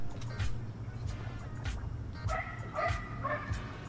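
A dog barks in a run of short, sharp woofs and yips, several of them close together, heard fairly near with some voices mixed in.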